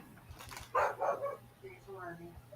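A dog gives a few short barks and yips in the background while someone talks over them during a home livestream.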